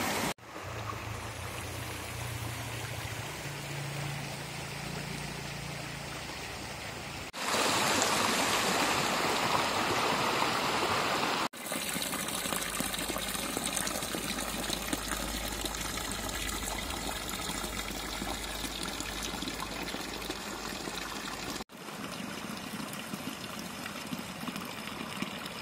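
A creek in the Amanos mountains near Erzin, Hatay, with sulphurous water, rushing steadily and loudly in several close takes, a broadband wash of water with no voices.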